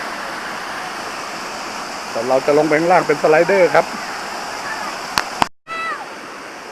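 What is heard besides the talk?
waterfall at Lan Rak waterfall, Nakhon Nayok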